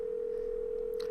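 A steady telephone dial tone hums continuously from a phone in a Nancy Drew video game, a clean unbroken electronic tone with no speech.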